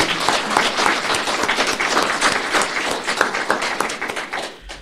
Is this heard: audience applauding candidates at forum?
yes